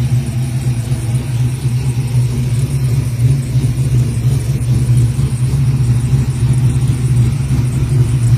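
A car with a 383 stroker motor idles loudly and steadily, a deep, even engine rumble with a low throb that holds for several seconds, no talking over it.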